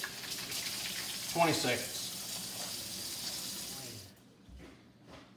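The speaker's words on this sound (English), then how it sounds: "So I'm going over here to wash my hands." Water runs steadily from a tap while hands are washed with warm water and soap for biscuit-making, a continuous splashing hiss under a man's speech that stops near the end.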